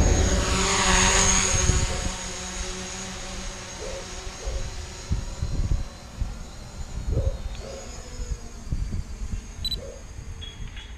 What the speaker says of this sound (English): we're going to get the drone launched and we're just going to do a long distance fly